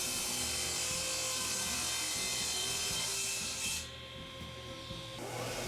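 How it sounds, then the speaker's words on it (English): A power saw rips strips of padauk wood with a continuous, rasping, broadband cutting noise that holds steady, dips briefly and then resumes. "Next, I cut strips of pawduke that I could use for extensions."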